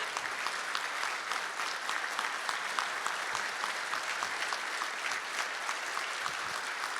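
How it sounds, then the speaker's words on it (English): Sustained crowd applause for a new police chief at a swearing-in in Mission, Texas, steady dense clapping from many hands throughout, a standing ovation without pause. "Wait, standing ovation first, right?"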